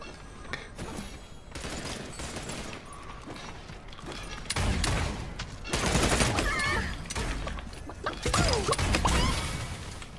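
Scattered gunfire and mechanical clatter in the battle royale game Realm Royale, a mix of nearer and more distant shots popping irregularly across a busy soundscape, with occasional speech.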